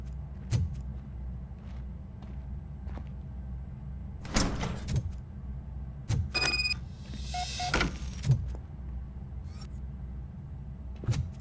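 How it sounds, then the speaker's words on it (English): A door in the video game RoboCop: Rogue City opens with a few mechanical clunks and a short sliding whir, set over a steady low ambient hum with no talking. "Now let me get that door open for you."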